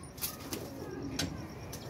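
Pigeons kept as hobby birds coo softly amid low ambient background noise, with a few faint flutters or chirps over a short stretch.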